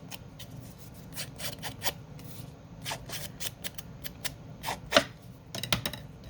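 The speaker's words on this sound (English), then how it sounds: "Let's roughen this edge a little too" The edge of a vintage book page being roughened and distressed, a close run of dry scratchy rasping strokes in uneven bursts, with a few sharper crinkles of paper.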